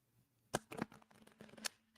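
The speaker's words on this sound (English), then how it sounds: "while I'm shuffling these advice cards" Advice cards are shuffled by hand in a few quick, soft riffling bursts, close and quiet with short gaps between them in an otherwise still room.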